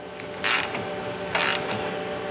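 Ratchet tightening a suspension end link bolt on a Brembo-equipped Mustang, two quick bursts of close, loud clicking about a second apart over a steady background hum.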